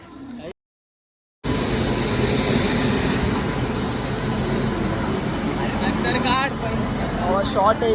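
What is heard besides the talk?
inside a moving train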